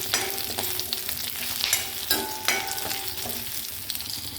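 Shallots frying in oil while being stirred for a chilli chutney: a close, crackling sizzle broken by repeated scraping strokes and clinks of a spoon against the pan, with no voices.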